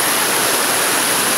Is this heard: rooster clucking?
no